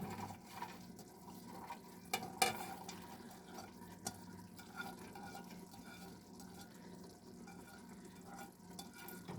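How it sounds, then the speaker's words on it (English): Browned ground beef and onions stirred in a pan: a faint, continuous soft sizzle with a few light spatula scrapes and taps, quiet and close. "Just let them cook a little bit longer with the hamburger."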